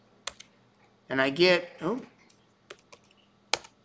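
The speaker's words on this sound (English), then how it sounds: "I can just start typing in unit" Keystrokes on a computer keyboard while entering a unit parameter in CAD modeling software: a few sharp isolated clicks spaced apart, near and clear, with a short stretch of speech in between.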